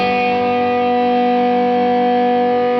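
An electric guitar chord rings out through a Seymour Duncan 805 overdrive pedal set to more drive, a thick sustained distorted tone held loud and steady throughout.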